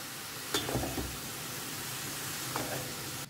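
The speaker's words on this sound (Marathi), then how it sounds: "ओके सो आतां आमी घालया भाजी. सो बरें एका मिक्स करून घेया." Cabbage is added to a pan and stirred, giving a soft, steady sizzle with a couple of faint scraping stirs over it, quiet and close.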